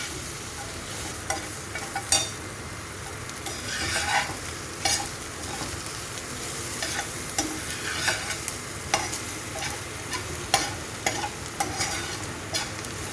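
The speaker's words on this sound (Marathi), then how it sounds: "आता आपला कांदा, लसूण आणि मिरची व्यवस्थित परतून झालेले" Onion, garlic and green chillies sauté in a pan for a moringa leaf dish, a steady sizzle broken by frequent scraping stirs and light utensil clinks, close and continuous with no voices.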